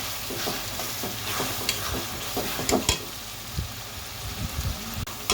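Spice paste frying and being stirred in a pan for a farm chicken curry, with a steady close sizzle broken by scraping stir strokes at an uneven rhythm.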